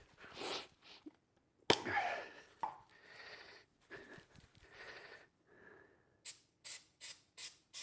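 Several short hissing bursts of an aerosol spray on a Porsche gear knob, the last four quick and evenly spaced, with quieter rustling and breathy sounds between.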